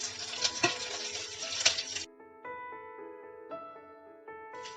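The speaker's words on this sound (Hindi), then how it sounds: "प्याज को ज्यादा नहीं फ्राई करना है, 1-2 मिनट के लिए फ्राई करना है।" Onions and chopped green chillies sizzle and crackle in a pan for about two seconds, with a few stirring scrapes over soft background music, which then continues alone.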